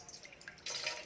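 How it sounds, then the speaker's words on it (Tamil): A tumbler of water pours into a pot for herbal kashayam, a cold and cough remedy, with a few soft drips followed by a brief, close, splashing pour. "நான் அந்த 1 டம்ளர் அளவு தண்ணி நான் விடுறேன்"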